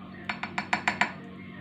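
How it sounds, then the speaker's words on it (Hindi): Ice cubes drop into a glass while coffee is being made, six sharp, evenly spaced clinks in quick succession, close and fairly faint over a quiet room. "इसके अंदर मैं आइस क्यूब डालूंगी।"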